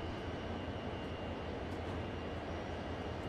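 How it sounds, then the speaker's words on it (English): A diesel locomotive engine in a train simulator game drones with a steady, low rumble, the second unit seemingly idle, holding an even, continuous level throughout. "The locomotive sounds are a lot better"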